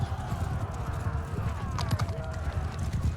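Cavalry horses in the Bannerlord video game gallop in a dense drumming of hooves, with a whinny among them and battle noise around, while a voice talks faintly underneath.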